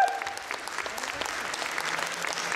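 Applause from an audience after the Japanese dance team Butai's final performance at a competition, a steady dense clapping that holds at even loudness, with faint speech beneath.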